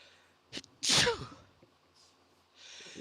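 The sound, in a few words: sneeze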